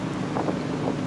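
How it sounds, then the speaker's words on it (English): Steady wind buffets the microphone on the open deck of a cruise ship heading out from port along a coastline, a continuous broadband rush with low rumble and no voices. "Sorry about the wind if that's bothering you."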